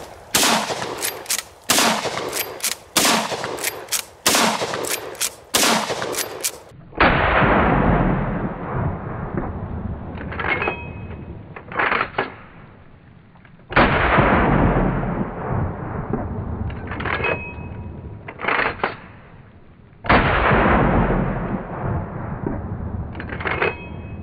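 A Big Horn Armory Model 89 lever-action rifle chambered in .500 S&W Magnum fires outdoors, first a rapid string of sharp, loud shots, then slower single blasts that each roll out into long echoing booms.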